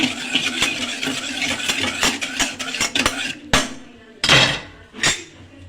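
Milk being mixed into a caramel pudding mixture in a bowl, with a utensil clinking repeatedly against the bowl in quick, uneven taps, fairly close and loud.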